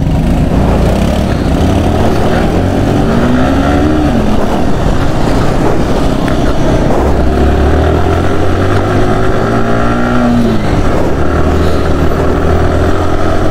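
A BMW GS motorcycle rides off on a Sunday group ride, its engine droning loud and steady throughout, with rising and falling tones as it accelerates and shifts, mixed with heavy wind rush.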